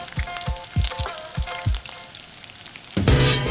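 A pork loin hisses in a hot pan while being turned and glazed. A run of soft, regular thumps sounds over the sizzle, then a louder burst of frying flares up at the end.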